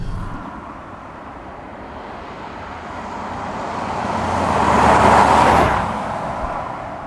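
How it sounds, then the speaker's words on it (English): Volvo XC90 T5 petrol engine drones while driving, mixed with road and tyre noise, swelling to a louder, coarser peak around five seconds before easing back. "Unfortunately, you can hear the engine quite well, and it is just a little bit on the coarse side."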